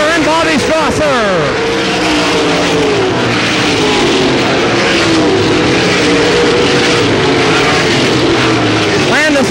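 Dirt track race cars roar steadily at Selinsgrove Speedway, a loud continuous engine drone with passing pitch sweeps at the start and end, under a race announcer's commentary.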